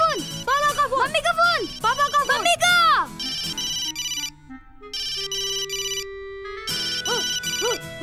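A telephone ringtone plays loud and close in a Hindi comedy feature film, a bright electronic jingle of rising and falling tones that repeats in bursts, then changes to steadier sustained beeping notes.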